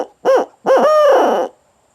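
Owl locator call used for turkey hunting imitates an owl: two loud, close hoots, a short one followed by a longer drawn-out one, with silence around them.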